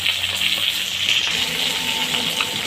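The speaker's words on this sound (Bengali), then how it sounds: "মাছটা দেখুন আমার এক পিঠ ভাজা হয়ে গেছে। আমি এবার উল্টাইয়ে দেব।" Bhola fish frying in a pan, a steady broadband sizzle and spatter of hot oil that stays even and close throughout, with no voices.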